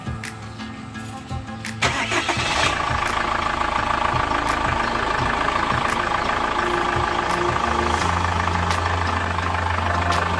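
A 2015 Chevrolet Captiva diesel engine cranks briefly and catches, then settles into a steady, close idle with a continuous clatter for the rest of the clip.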